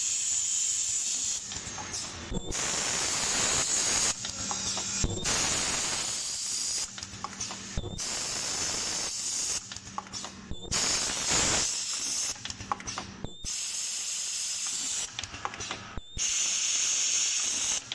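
A zipper film sealing machine running through repeated cycles, with a steady loud hissing and whirring broken every couple of seconds by brief pauses and clunks, no talking.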